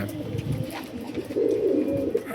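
Pet Kalsire pigeons kept by a hobbyist coo softly close by, a few low throaty rolling coos rising and falling over quiet background.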